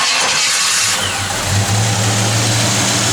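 A 1955 Chevrolet Bel Air with a 283 small-block V8 idles steadily and close, a low even rumble with a slight swell near the start and no voices.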